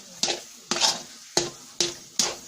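Thick makhandi halwa being roasted in a pan on low heat, with about five sharp scraping stirs at a steady rhythm, each a short bright scrape over a faint background sizzle.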